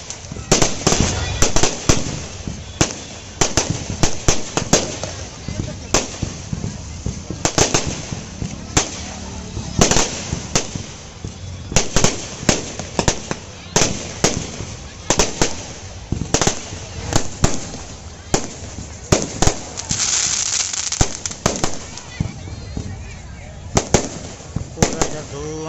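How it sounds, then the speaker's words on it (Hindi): Fireworks and firecrackers bursting at a Ravan Dahan fair in Dharamjaigarh, Chhattisgarh, with a rapid, irregular string of sharp bangs and pops running throughout over a constant crowd din and voices. "इस साइड आतिशबाजी होता हुआ विथ रावण सर के साथ"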